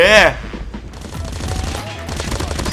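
AK117 rifle gunfire in Call of Duty Mobile: a loud, short burst at the very start, then quieter game sounds and footsteps continue underneath while someone talks throughout.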